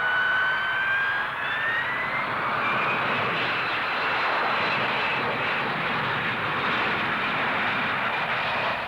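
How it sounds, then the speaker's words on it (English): A Hawker Siddeley Harrier military jet strike aircraft at the 1960s Farnborough airshow, roaring loudly and continuously, with a rising whine sweeping upward as it passes, and no talking. "The remarkable Harrier military strike aircraft, which will shortly be going into service with the Royal Air Force."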